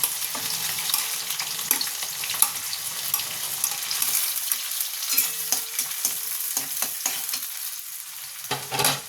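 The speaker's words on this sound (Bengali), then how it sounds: "এরপর আমি পেঁয়াজ কুচিটা দিয়ে দেবো।" Chopped green chilli and onion sizzle and fry in a pan for a vegetable tadka, with steady close frying hiss and intermittent stirring scrapes throughout, no voices.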